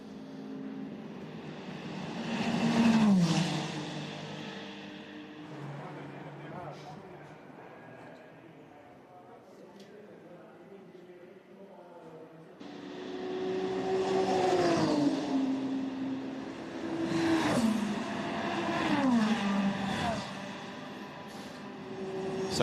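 Toyota Gazoo Racing and Ferrari prototypes at the Le Mans endurance race pass by with rising and falling engine whines, two distinct waves of passes heard at a distance under a commentator's continuous talk.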